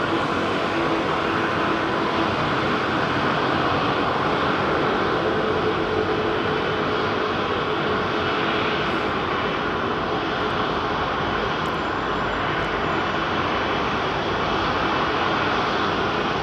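An airliner powered by Rolls-Royce Trent 900 engines departs London Heathrow, a loud, continuous jet roar that fills the whole stretch without letup.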